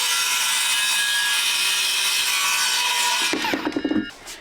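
A saw cuts steadily through a cabin roof in a continuous rasping drone that ends abruptly, followed by a few loud close knocks and rattles as the cut piece shifts.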